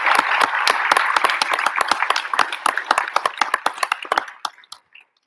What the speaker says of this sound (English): a big round of applause to students for all of them